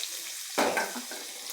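Chopped green chillies and onion go into hot oil with curry leaves, giving a sudden sizzling burst that settles into a steady, softer frying hiss with no voices.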